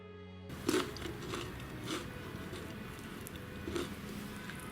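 Crisp bites and chewing of crunchy fried Goan kormolas, a few sharp crunches spaced out over several seconds, close and fairly quiet.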